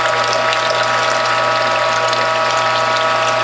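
Ratchet on a Whole Health Foundation juice press cranking steadily while black grape juice is pressed, a dense continuous clicking with a metallic mechanical rasp and a low steady hum, close and loud, no voices.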